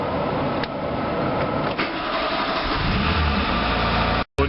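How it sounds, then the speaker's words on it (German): A VW Golf engine idles at low revs just after an oil change, a steady close mechanical hum with a faint ticking rattle holding level throughout before a brief cut near the end. "Ich werde den Motor nun auf geringer Drehzahl laufen lassen, bis die Druckleuchte verschwindet."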